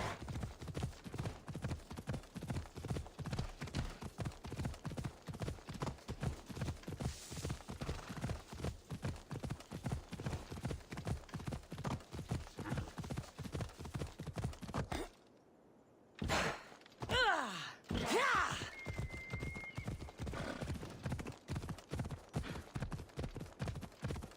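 Steady rhythmic hoofbeats of a unicorn mount in Assassin's Creed Odyssey clip-clop at a brisk gallop for a long stretch, then break off, followed by a few thumps and a short whinny.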